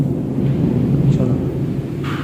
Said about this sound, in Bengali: মনে হইতেছে যেন আকাশ মেঘের গর্জন করতেছে, এমন লাগতেছে